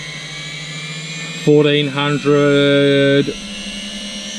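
Drone motor controlled by a KISS flight controller spinning up briefly as the throttle is raised, giving a loud whine whose pitch climbs and then holds for about two seconds before cutting off, with a voice speaking over it.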